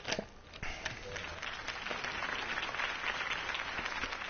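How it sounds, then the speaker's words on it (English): A large crowd applauds continuously, a dense wash of clapping with some cheering and murmuring, filling the space at a steady level. "If only Mr. Wayne, my campaign's largest backer, could have heard that applause"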